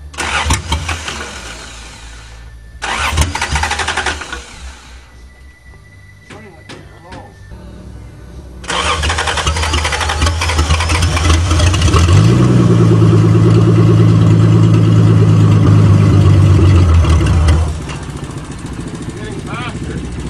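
A 1982 Toyota Cressida with stale fuel cranks in bursts, then catches and runs with a loud, rough revving roar that holds steady before dropping back to a rumbling idle. People talk over it at times.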